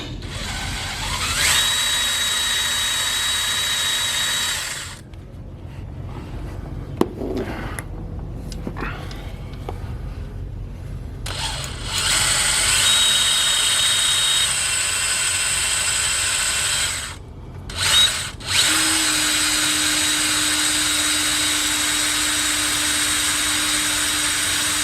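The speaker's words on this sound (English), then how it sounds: "But it's drilling." A power drill whines loudly into the metal of an LS engine block at a broken cam locator pin, in several long bursts, stopping and restarting, with grinding mechanical noise close by.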